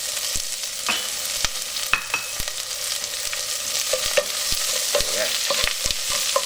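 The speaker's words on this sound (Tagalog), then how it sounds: "habang ginigisa natin yung bawang at sibuyas" Red onion and garlic sautéing in a pan for spicy shrimp in coconut milk, giving a steady close sizzle with sharp ticks and clinks from stirring, and no voices.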